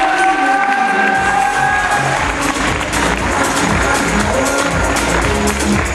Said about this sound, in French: on vous applaudit très fort, Abigail.